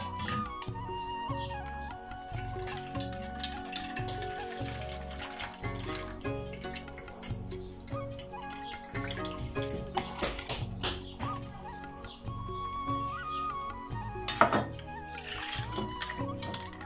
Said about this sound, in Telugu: ఇప్పుడు చింతపండు పిసికేసి రసం తీసుకుని వస్తా